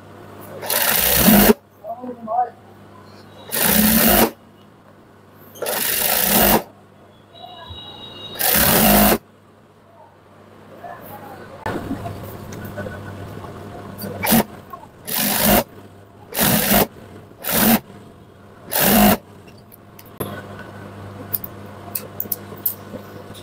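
An electric sewing machine top-stitches a shortened garment sleeve in several loud, whirring bursts of a few seconds each. Quiet pauses fall between the bursts, and a person talks during them.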